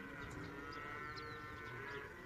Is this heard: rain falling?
no